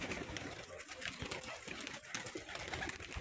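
Pigeons released for flight at a pigeon-flying tournament, a close flurry of wingbeats and soft cooing in continuous bursts, with no talking.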